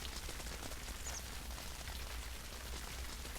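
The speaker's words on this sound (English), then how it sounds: "That's just the rain sound I hear, not the pattering of feet" Rain falling in WolfQuest, a faint, steady hiss of pattering drops over a low ambient rumble, unbroken and without voices.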